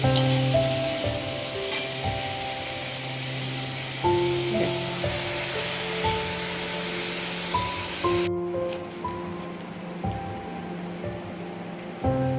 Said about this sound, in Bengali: এই আলুটা কেটে নিয়ে একটু আলুটা ভাজছি